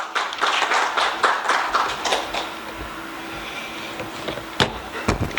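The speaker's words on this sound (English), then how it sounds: "Please give him a round of applause." Scattered applause at a conference symposium session, uneven claps in bursts that thin out midway and return sparsely near the end, with no talk.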